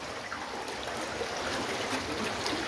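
Cold water flowing at Guchhupani, a steady broadband rush and trickle of a stream running close by, continuous and even throughout with no voices.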